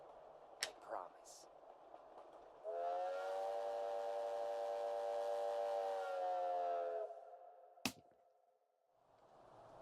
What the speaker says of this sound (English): That train sound effect sounded a little distorted,